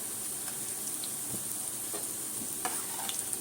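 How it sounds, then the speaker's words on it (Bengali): Okra pakoras fry in hot oil, giving a quiet, steady bubbling sizzle with occasional faint clicks, heard close and alone. "এগুলোকে ভেজে নিই।"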